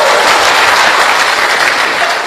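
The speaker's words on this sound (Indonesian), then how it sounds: "Tepuk tangan dulu kasih bapak-bapak." An audience at a Christmas revival service breaks into dense, loud applause, a continuous wash of many hands clapping close by with no talking.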